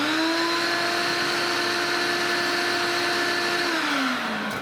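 A workshop dust-extraction vacuum runs with its extension hose attached, a loud, close, steady motor whine holding for several seconds before the pitch starts to drop as it spins down near the end.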